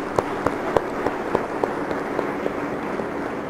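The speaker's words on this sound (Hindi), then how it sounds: "और टीचर्स जो यहां बैठे हैं उनके लिए भी हम जोरदार तालियां देंगे" Scattered, sparse clapping from a convocation audience honoring seated teachers, a few distinct claps spaced irregularly over a steady room hum, fairly faint.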